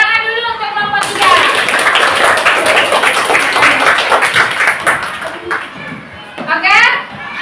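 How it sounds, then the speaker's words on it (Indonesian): Classroom applause for a student group after a presentation, a dense run of claps from a room of children lasting several seconds, with young voices and chatter mixed in. "Tepuk tangan dulu untuk kelompok 3."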